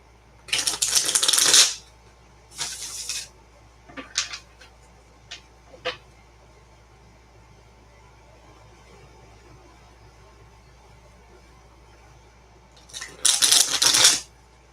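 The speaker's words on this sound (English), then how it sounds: "let me just cut it a couple times and then I'll start shuffling." A tarot card deck being shuffled, with two long riffling bursts at the start and end and a few short card taps and flicks in between, all close and loud against a quiet room.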